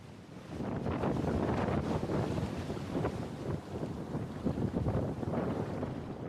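Wind blowing hard at a beach while wing sailing through surf, a continuous loud roaring rumble with gusty swells and buffeting against the microphone, alone and without talk.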